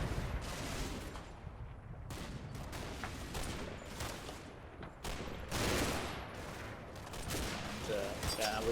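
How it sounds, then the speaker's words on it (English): Bursts of 20mm cannon fire in the World War II strategy game Combat Mission: Battle for Normandy, dense overlapping reports and rattling volleys at moderate distance, heard faintly under someone talking. "Yeah, more 20mm fire."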